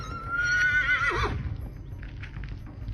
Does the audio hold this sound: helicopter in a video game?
no